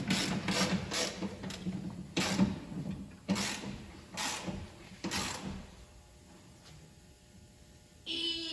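Bracket bolts on a 2020 Ram 2500 are tightened with a ratchet while Westin 3-inch side steps are installed. Bursts of rapid clicking come in repeated strokes with short pauses, followed by a quieter stretch and a final scrape.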